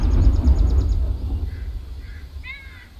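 Short birdcalls from a video game, a few faint chirps and a brief warbling call in the later part, coming after a low rumbling background and a quick series of ticking notes, with no talking.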